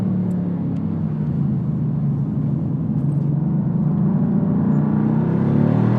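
Steady, loud low engine rumble and road roar from inside a Mercedes-AMG GT R Pro running fast on a track, continuous with little variation in level.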